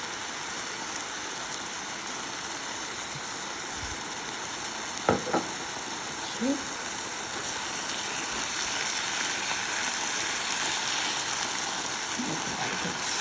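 Ground meat for a high-protein, low-carb meal cooks in a pan with coconut aminos, giving a steady, soft sizzle and hiss throughout, with a few faint utensil clicks and scrapes partway through.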